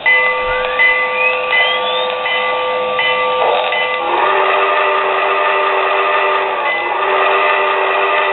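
A model train runs close by, its electronic whistle sliding upward before a steady, buzzing locomotive hum takes over and carries on without pause.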